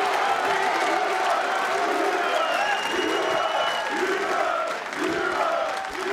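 Bowling crowd at the Weber Cup tenpin event cheering and applauding, a continuous loud wall of claps, whoops and shouts with commentary-style talk faintly underneath.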